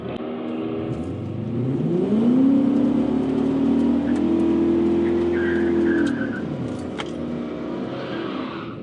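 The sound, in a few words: Infiniti Q45 car doing a burnout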